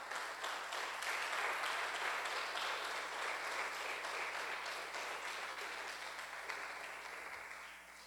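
A church congregation applauds during a Portuguese-language sermon, soft, distant clapping that holds steady and then gradually fades toward the end, with no talking over it.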